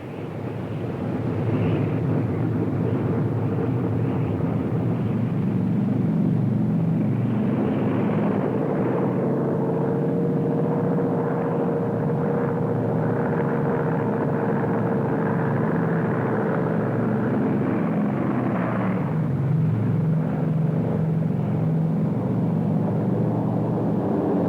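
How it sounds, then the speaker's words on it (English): Large formations of Japanese World War II warplanes drone overhead in a loud, continuous propeller roar that swells and rolls for the whole stretch, with no voices. "Radar has picked up large formations of Japanese planes."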